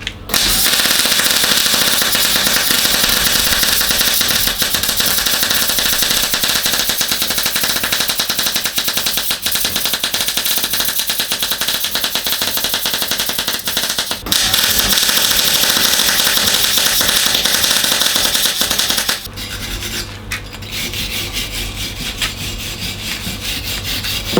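MIG welding with wire on a 31 IRS conversion, machine cranked to maximum amps with less than half wire speed: a loud, steady crackling buzz running almost continuously, briefly breaking near the middle, then cutting to a lower hum near the end.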